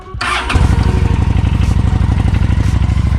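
Honda Shadow 750 ACE motorcycle starts cold on the first try: a short cranking whir, then it catches into a loud, close, evenly pulsing idle thump that carries on steadily, with no talking.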